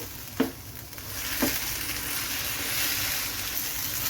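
Ginger garlic masala frying in a pan as it is stirred, a steady close sizzle with two sharp spatula knocks near the start and no talk.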